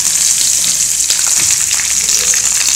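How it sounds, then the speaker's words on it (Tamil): Asafoetida and curry leaves hit hot oil with popped mustard seeds, giving a loud, dense, hissing sizzle that stays steady and close throughout without any voice. "எண்ணெய் காஞ்சதும் கடுகு பொரிஞ்சதுமே பெருங்காயத்தூள் போட்டு கருவேப்பிலை"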